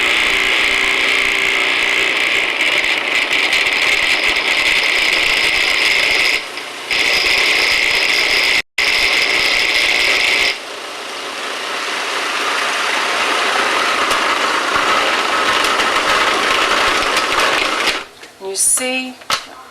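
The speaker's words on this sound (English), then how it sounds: "So I'm going to turn my processor on" Loud whirring hum of a food processor mixing pizza dough, running steadily with a few brief stops and restarts, the motor pitch shifting as the dough pulls together, ending with clattering as the machine halts.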